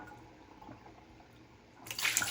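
Water is tipped out of a pottery dish while cleaning it, a brief splash and pour that bursts in near the end after a quiet, faintly dripping lead-in.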